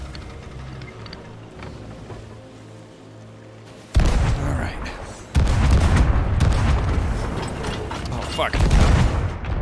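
Heavy ship cannons boom in Sea of Thieves, a loud broadside erupting about four seconds in and continuing as repeated blasts and rumbling impacts, with a voice swearing briefly over the barrage.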